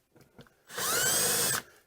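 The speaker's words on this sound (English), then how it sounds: "So I've gone ahead and drilled these out" A power drill with a 1/8 inch bit bores holes in an RV screen door, a loud close whine lasting almost a second after a few faint handling clicks.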